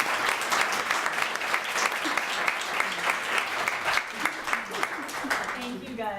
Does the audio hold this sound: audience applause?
yes